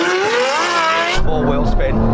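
A Nissan GT-R NISMO in a race against a Ferrari 812, its tyres squealing in a loud wheel spin with a rising engine howl, then a deeper rumble as the squeal fades.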